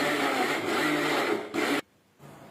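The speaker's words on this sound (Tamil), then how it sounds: "மிக்சி ஜாரில் கனவாவை அரைச்சிக்கலாம்" A mixer grinder jar grinds squid with a loud, steady whirring drone that cuts off abruptly, then a quieter hum resumes after a short pause.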